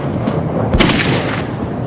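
A single heavy blast of a bomb exploding at night in deserted foothills near Kanyakumari quarries, a sharp booming burst partway through, set against a steady rumbling background.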